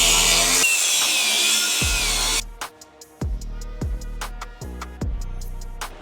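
A power tool trims the corner edge of a bumper being fitted to a GMC Sierra, a loud sustained cutting whine for a couple of seconds, then a series of short, sharp bursts of cutting and metallic strikes.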